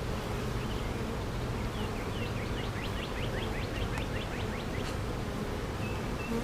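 Honeybees buzz in a dense, continuous hum around a hive frame being packed with nectar, the swarm drone steady and moderately close with faint high chirps scattered through.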